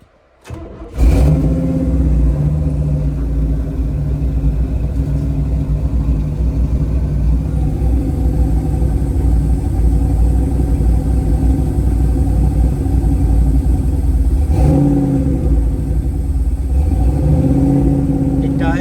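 A 1969 Buick Special Deluxe engine starts with a sharp catch and settles into a loud, close, rumbling idle, its tone shifting slightly as the throttle is blipped and eased off, running steadily without talk.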